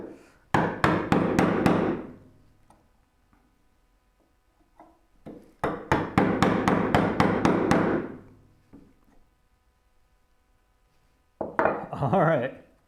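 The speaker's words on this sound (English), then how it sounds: "See how fast we can get these guys chiseled out." Mallet blows on a chisel chopping out waste wood for a Moxon vise: two rapid bursts of about six sharp, ringing strikes each, close and loud, then a shorter flurry at the end, with quiet gaps between.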